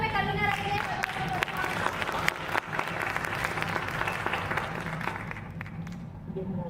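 A drama competition audience breaks into sustained, dense applause mixed with crowd noise, loud and continuous throughout as performers are welcomed on stage, with voices faintly underneath.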